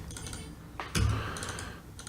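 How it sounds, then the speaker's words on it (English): Rapid clicking of a computer keyboard during a game-building session, steady light taps with a couple of louder keystrokes, close and fairly quiet with no talk. "I don't know if you can hear me clicking, but there's a lot of it."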